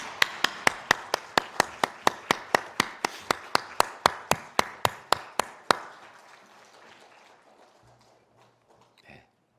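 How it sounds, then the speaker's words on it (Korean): A church congregation claps together in a steady, evenly spaced rhythm of sharp beats that ends abruptly, followed by a quiet room with faint murmuring. "하나님께 영광의 박수 올려드리겠습니다"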